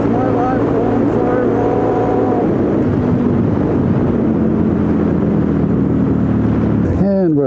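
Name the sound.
Suzuki DRZ400 motorcycle riding with a rough gearbox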